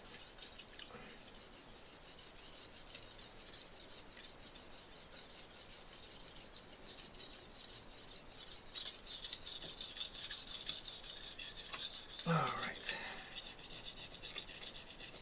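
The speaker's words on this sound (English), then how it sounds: "we are going to attempt a sharpening on this thing" A knife with a full bolster is rubbed steadily along a brick, a continuous close gritty rasp that carries on alone, with a brief louder scrape near the end.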